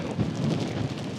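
Biting wind in minus 30 Mongolian winter blowing spin drift, a dense, loud roaring rush buffeting the microphone without pause for a brief moment.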